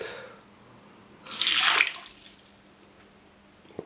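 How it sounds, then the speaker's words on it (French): Water splashes onto an IP67 Noctua fan in a waterproof test, a loud hissing burst lasting about half a second that then fades into faint trickling and drips. "on va essayer de pas trop éclabousser"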